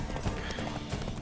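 Horse hooves clip-clop at a gallop in The Witcher 3, a steady, fairly loud rhythmic drumming close by with a faint whinny, and no talk over it.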